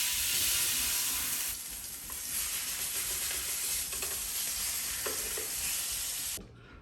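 Salisbury steaks fry in a hot skillet with a steady loud sizzle and hiss, easing slightly partway through and cutting off abruptly near the end; close and without talk.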